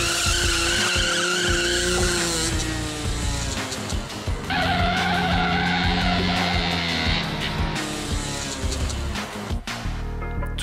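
A 50cc motorbike drifting, its tyres skidding and squealing continuously over the engine's revving whine, loud and close with pitch sweeps and a few sharp knocks, no voices.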